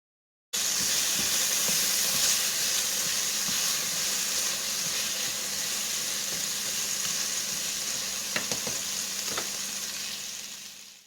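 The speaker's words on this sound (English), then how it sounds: "I'm just going to fry it up. I did heat up some olive oil in the bottom of the skillet" Zucchini chunks frying in olive oil in a skillet give off a loud, steady, close hiss and sizzle that fades slightly toward the end, with a few light utensil clicks and no voices.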